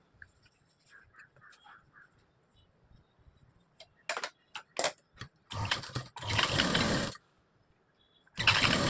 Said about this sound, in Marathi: तर खाली पायाच्या बाजूनच याला शिलाई मारून घ्यायची वर.